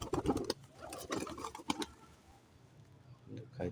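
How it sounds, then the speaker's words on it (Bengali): Desi pigeons coo softly while eating grain scattered in a courtyard, with a few low coos and light pecking and patter early on, fading to quiet before a last soft coo. "সবগুলো কবুতরকে যে উঠানে খাবার দিছি, সুন্দর মতো খাইতেছে"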